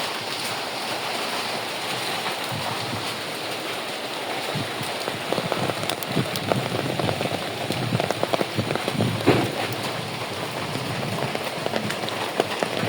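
Steady rain pattering on surfaces nearby, a dense continuous wash of drops with slightly heavier splashes toward the end, loud and uninterrupted with no talk.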